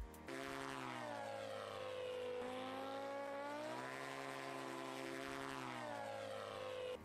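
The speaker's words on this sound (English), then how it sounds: "The shortest plane takeoff you will ever see." A propeller plane's engine drones close by, its tone rising and falling as it makes a very short takeoff, with one sharp onset and then a continuous, fairly faint whine.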